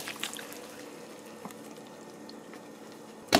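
Soy sauce pours into a jerk chicken marinade as a soft, steady liquid trickle, quiet and close, ending with a sharp clink.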